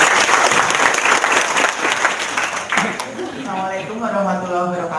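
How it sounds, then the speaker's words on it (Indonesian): Audience applause fills a large indoor gathering with dense, loud clapping that swells and then thins out, giving way to a voice speaking over the fading claps. "Tepuk tangan dong, luar biasa"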